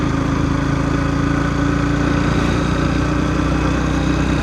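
A motorcycle engine drones steadily and loudly on a ride towards Aundh in Satara district, a constant low hum with no pauses.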